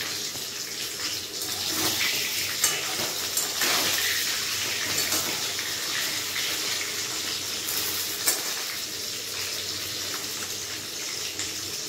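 Oil sizzling in a pan as potato pieces fry for a mutton curry, salted to stop spattering; a continuous loud hiss with occasional small pops, no talk.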